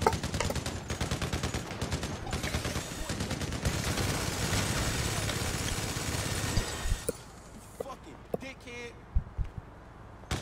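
Heavy, dense gunfire and game noise in GTA fill the first seven seconds, then drop away to quieter scattered sounds with a few sharp hits; voices are heard over the action.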